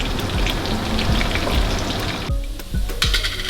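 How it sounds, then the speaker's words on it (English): Onions fry in a pan toward a caramel colour, a dense continuous sizzle and crackle heard up close, with the hiss briefly thinning partway before surging again; no voices. "we're going to let the onions fry till it is caramel looking color"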